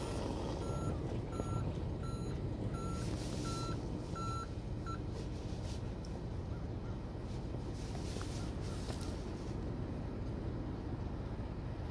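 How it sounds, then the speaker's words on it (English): An NS hi-rail truck lowers its rail wheels while its reversing alarm sounds a regular series of steady beeps, moderately loud over a constant engine rumble, with no talking. "He's letting the wheels down."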